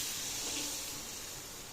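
Water pours into a pan of upma mix after tomatoes are sautéed, a brief, soft, steady hissing rush with no talk.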